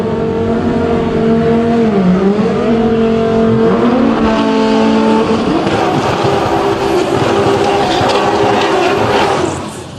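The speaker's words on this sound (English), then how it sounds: "first pair out in the DCT Extreme class. We're going to see a little GTR versus Lamborghini action here" A Nissan GTR and a Lamborghini launch side by side at a drag strip, engines holding a loud steady roar, then climbing sharply in pitch as they accelerate away before the sound fades at the end.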